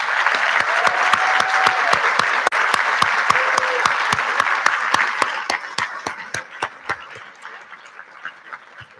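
Audience applause fills an awards ceremony for high school seniors, dense and steady for several seconds before thinning into scattered individual claps that fade out near the end.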